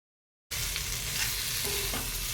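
Boiled, cut potatoes are stirred in a hot frying pan, their steady sizzle broken by close scraping and turning sounds, with no talking.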